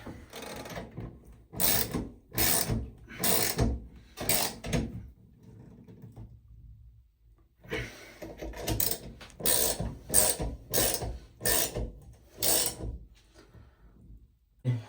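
Bath mixer valve cartridges being tightened, two bursts of repeated rasping, ratchet-like clicks in short regular strokes separated by a pause, close and crisp with no talking.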